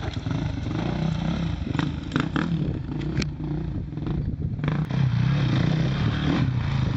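Dirt motorcycles at a King of the Motos extreme off-road race grind and rev over rocky terrain, with steady engine drone, bursts of throttle and occasional clattering scrapes throughout, fairly close and continuous.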